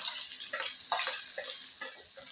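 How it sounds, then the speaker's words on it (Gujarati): Chopped garlic, curry leaves, ginger and green chili fry in hot oil for a Kathiawadi dahi tikhari, a soft crackling sizzle with occasional stirring clinks, close and fairly quiet. "આ બધું તેલની અંદર આપણે સરસ રીતના મિક્સ કરી અને બે મિનિટ માટે તળવા દઈશું"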